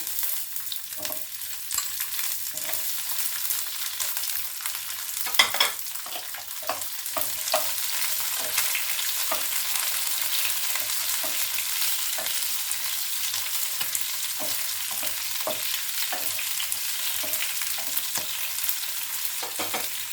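Onions with chopped tomatoes and green chillies frying in a pan, a steady bright sizzle running throughout, punctuated by regular soft stirring scrapes and an occasional louder knock.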